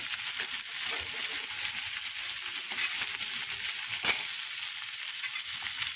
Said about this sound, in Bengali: আলু পেঁয়াজটা ভাজা ভাজা হলে তারপরে মশলাটা দেবো।